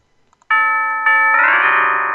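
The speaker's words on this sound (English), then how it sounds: "Stop ringing that doorbell!" A doorbell chime rings out loud and close, a bright sustained tone that is struck again about halfway through and left to ring and fade, with no voices over it.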